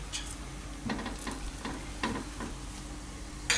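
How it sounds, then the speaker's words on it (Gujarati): Carrot thepla flatbread roasts in a pan over a medium gas flame, giving a soft, steady sizzle with faint scattered ticks and scrapes, quiet and close, without speech. "આપણે શેકી લેવું મીડિયમ ગેસ રાખીને"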